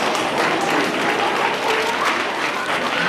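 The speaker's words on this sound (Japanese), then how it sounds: "ちょっと歓声が上がっておりますね。" Dense, steady applause with crowd noise fills the whole stretch as a boy band enters a 2015 Korea Music Festival press conference, loud and continuous with no pauses.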